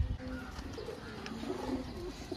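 Domestic pigeons cooing close by in a loft, a low, soft, throaty warble repeating over a steady background murmur.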